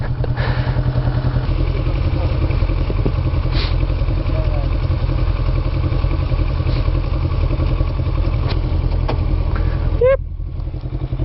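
A motorcycle on a winter ride rumbles steadily throughout with a constant low engine drone and wind noise, loud and close as if from the rider's position, easing slightly near the end.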